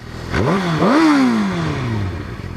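A KTM RC 125 motorcycle engine with stock exhaust revs up twice with a rising whine, then settles into a falling drone as the throttle eases off, loud and close.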